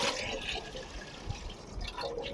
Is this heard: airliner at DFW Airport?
no